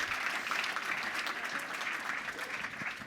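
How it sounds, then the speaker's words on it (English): Conference audience applauding a presenter, a steady dense clatter of many hands clapping at moderate distance, sustained throughout with no talk over it. "let's give Krish a massive round of applause for taking on this topic."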